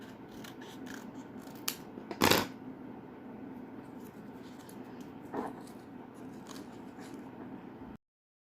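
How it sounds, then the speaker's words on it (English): Scissors snipping a small sheet of paper into leaf shapes for a mini flower vase craft, a few sharp crisp cuts heard up close over a low steady room hiss, one louder snip standing out. "This is a small piece of paper which I have, and then I'm just going to cut some leaves here."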